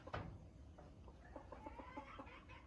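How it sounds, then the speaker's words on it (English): Two roosters call in the distance, faint clucking and short crowing sounds repeating over a quiet outdoor background, with no one speaking. "these are 2 roosters right here"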